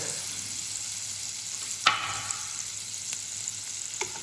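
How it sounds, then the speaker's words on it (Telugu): Onions and tomatoes frying together in a pan give a steady close sizzle and hiss. A sharp clink of a utensil cuts through once, and a few lighter taps follow. "ఆనియన్స్ అయితే వేగాయి కదా, ఇందులోకి టమాటోస్ కూడా వేసుకున్నాం"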